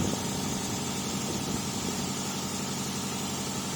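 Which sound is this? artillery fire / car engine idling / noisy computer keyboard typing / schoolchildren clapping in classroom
car engine idling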